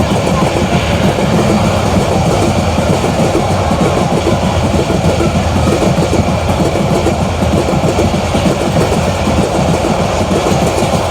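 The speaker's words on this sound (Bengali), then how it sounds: "ওই মুহূর্তে আবারও ট্রেনের আগমন এবং বাচ্চারা অনেক উৎসাহিত" A train rolls past beside a crowded cattle market at Eid-ul-Adha, a loud, close, continuous rumble with rhythmic clickety-clack of wheels on rails, sustained throughout.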